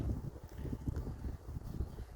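Gusty wind on Lake Seliger on a sunny June day, a low rumbling buffet against the microphone that rises and falls in uneven surges, with no voices.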